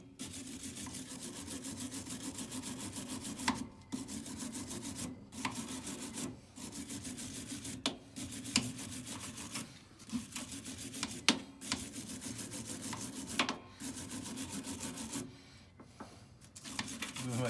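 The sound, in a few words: steel wire brush scrubbing corrosion off tractor rim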